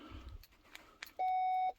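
A Chrysler Dodge car gives one steady electronic beep lasting about half a second during ignition key programming, after a few faint clicks and handling noises.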